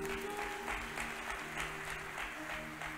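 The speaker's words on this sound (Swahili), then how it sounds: "Mpigieni makofi" A church congregation claps together, a soft, moderately distant patter of hands with sustained musical tones running underneath.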